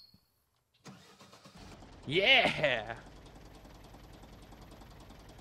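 A tractor engine in the farming game Professional Farmer 2014 cranks and fires up after a short silence with a loud surge, then settles into a steady low idle, with a voice briefly heard.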